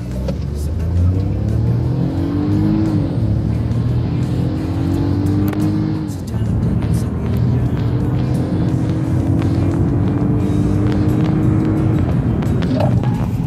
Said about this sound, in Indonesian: Sekarang kita mau coba 0 ke 100 km per jam.